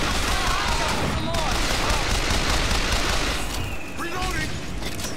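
Sustained gunfire in a Bioshock Infinite firefight: rapid bursts of shots and booming impacts pile densely together and stay loud throughout, with someone talking over the din.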